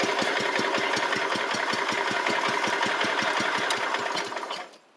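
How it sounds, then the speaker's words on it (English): A 1985 Wheel Horse 312-8 garden tractor engine with a cheap aftermarket carburetor idles steadily with an even, rapid chugging beat, close by, before cutting off near the end. "The carb's pretty good when it idles like that."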